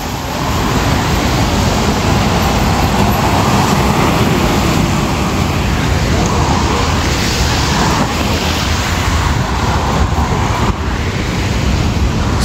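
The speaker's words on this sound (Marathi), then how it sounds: "तुम्ही गाड्या बघा आता कसे जाप झूप जात आहेत एकदम" Cars passing along a road in Singapore, heard as a steady, loud wash of traffic and wind noise with no horns and no voices.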